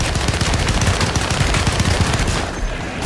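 Rapid gunfire in the video game Alone in the Dark (2024), dense bursts of shots firing almost continuously at high volume, easing slightly near the end.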